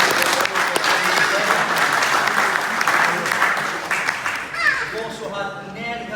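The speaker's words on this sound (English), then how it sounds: "So I can have a round of applause for Chris Murray, please." A crowd applauds loudly and steadily at a strength lifting show, the clapping fading toward the end as a voice begins to speak.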